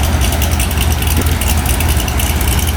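A C6 Corvette Z06 with its naturally aspirated LS7 V8 roars on a dyno, a loud, dense, continuous engine drone held steady throughout with no talk over it.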